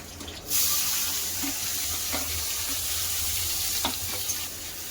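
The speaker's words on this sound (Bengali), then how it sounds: "আলু ভাজা হচ্ছে" Potatoes fry in hot oil in a pan, a loud, steady, close sizzle that flares up after a brief quiet start and holds evenly with faint clinks underneath, with no talking.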